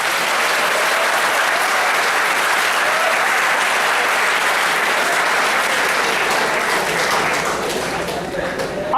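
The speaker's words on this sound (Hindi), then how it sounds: "इसके लिए एक बार जोरदार ताली बजा दीजिए" Loud, steady applause from the audience at a college old students' association gathering, sustained clapping filling the room for the whole stretch and easing slightly at the end.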